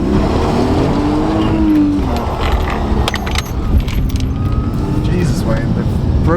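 A drift car on a test pad breaks loose, its engine roaring and tyres scrubbing, loud and close with a brief rising whine, while people talk over it.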